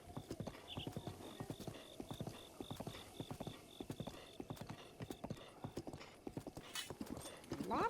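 Horse hooves clip-clopping in a steady, fairly loud galloping rhythm in a Zelda video game set in the Akkala region, with a brief whinny near the middle and a louder burst at the end.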